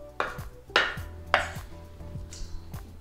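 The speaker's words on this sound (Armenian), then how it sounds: "Թարխունի այս կոպիտ մասերը հեռացնեմ, մնացածը նույնպես կտրատում եմ," A knife chops tarragon on a board: three sharp, fairly loud strikes about half a second apart, each followed by a lighter tap, then a softer tick, close and with no talk.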